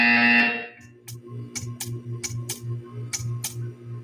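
A rapid, pulsing buzzer from the game Portal 2 sounds in a steady run of short repeated bursts, following a brief louder tone at the start.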